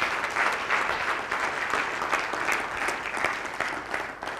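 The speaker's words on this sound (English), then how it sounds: "Please give a round of applause for her." An audience applauds after a keynote address at a business event in Delhi, a full-room round of clapping heard at moderate distance, steady and unbroken throughout.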